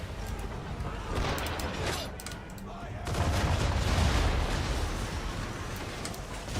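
Cannon fire in Assassin's Creed 3 booms in heavy, rumbling volleys, with a dense burst after a short lull, loud and broad, with game noise throughout.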